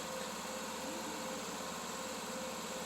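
A John Deere Ztrak zero-turn mower engine running in a steady, unbroken drone at a moderate distance, with no change in pitch and no voices over it.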